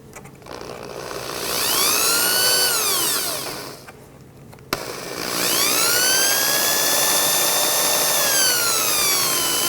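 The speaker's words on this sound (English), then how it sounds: "what we're going to do is we're going to go ahead and drill these holes" A power drill whines loudly through two long bursts while drilling holes in a 1967 GTO dash, its pitch rising and falling, with a brief pause and click between them.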